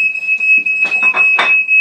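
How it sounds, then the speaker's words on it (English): A loud, steady high-pitched smoke alarm tone sounds continuously, with bursts of clattering and muffled noise breaking through around it. "once the smoke alarm goes off"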